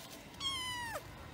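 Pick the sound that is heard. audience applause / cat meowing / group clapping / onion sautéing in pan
cat meowing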